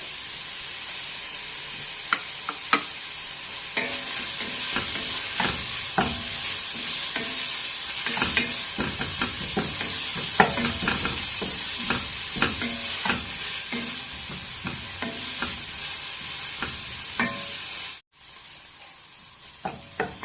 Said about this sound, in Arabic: نديرو خيزو ونشحروه حتى هو